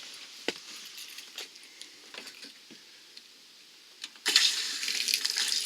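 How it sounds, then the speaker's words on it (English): Water draining from an RV tank during winterizing: soft, scattered trickling and dripping splashes, faint at first, then a louder steady gush of running water near the end. "I'm going to let that tank finish draining"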